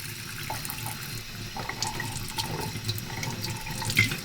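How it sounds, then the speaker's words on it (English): Cold tap water runs steadily into a sink while raw shrimp are rinsed under it, with a close continuous splashing stream and small clinks from handling and no talking. "And now let me wash with the cold water."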